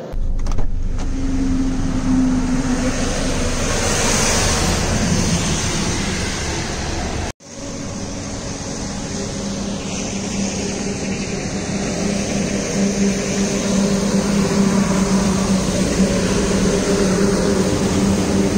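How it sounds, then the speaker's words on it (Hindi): Highway traffic passing a roadside stop, heard as a continuous loud roar and swell of vehicles going by, with one abrupt break partway through. "आते जाते ट्रैफिक को देखते हो"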